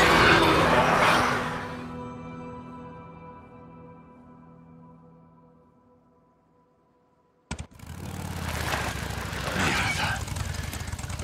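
A motorcycle engine in the video game Days Gone roars loudly at first, then fades into a dim, humming tail before a sharp burst brings back loud, rough engine noise and mixed game sound.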